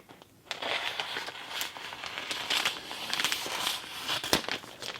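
A mystery handbag package cut open up close, with continuous crinkling and crackling of plastic wrap over several seconds, dense and fairly loud, with no speech.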